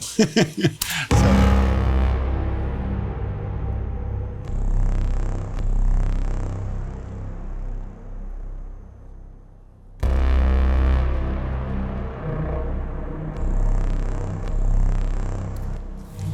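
Mirage synthesizer from an Alita: Battle Angel film score, with dense, loud sustained tones and a bright, high shimmering layer that swells twice, restarting abruptly partway through.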